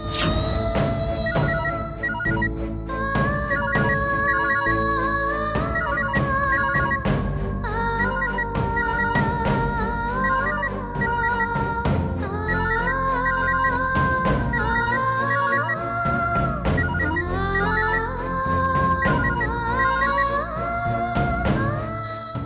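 A melodic electronic ringtone plays on steadily for over twenty seconds, fairly loud and close, with no one picking up or speaking.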